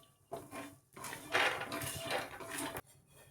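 Fried peanuts get scooped out of a pan, with a few quiet scraping and clinking sounds of a spoon against metal in a short burst, then near silence.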